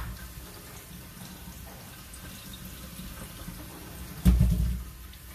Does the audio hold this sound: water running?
yes